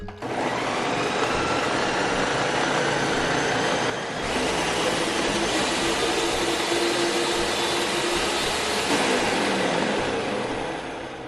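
A blender purees chile sauce, holding one loud whirring roar from start to end, with a brief dip in pitch near the middle as the load shifts, and no voices.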